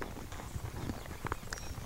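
A horse's hooves step backward in a series of soft, irregular clip-clops on the ground as it is asked to back up, close by and fairly faint, with no talking.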